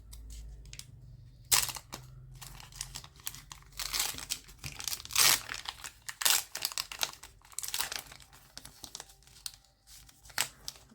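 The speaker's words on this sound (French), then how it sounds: "Et nous allons ouvrir le prochain booster." A Pokémon Go booster pack is torn open up close: bursts of crinkling foil and ripping wrapper in uneven spurts, separated by short quiet handling pauses.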